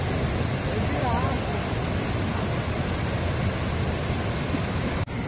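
Bogata waterfall in Telangana sends down a constant roar of rushing water, a loud, unbroken broadband wash that holds steady with no other sounds before a brief dip near the end.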